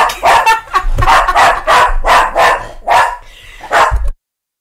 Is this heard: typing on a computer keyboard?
no